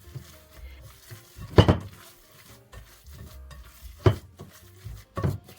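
Minced beet and chicken mixture with salt and pepper being stirred in a bowl, soft scraping broken by three sharper clinks of the utensil against the dish, close and alone.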